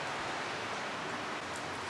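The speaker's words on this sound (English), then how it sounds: "It's raining in California" Rain falls in California in a brief, steady wash of dense hissing drops that fills the whole moment evenly, with no voices over it.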